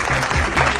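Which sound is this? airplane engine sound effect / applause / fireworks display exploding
applause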